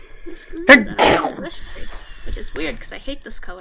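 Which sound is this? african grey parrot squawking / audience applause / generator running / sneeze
sneeze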